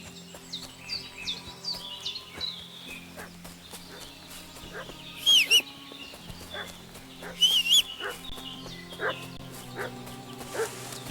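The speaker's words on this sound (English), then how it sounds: "What's that dog making such a fuss about?" Dog barking in the medieval Bohemian countryside of Kingdom Come: Deliverance 2, two loud bursts of barks standing out over a busy ambient bed with birdsong and rustic background sounds.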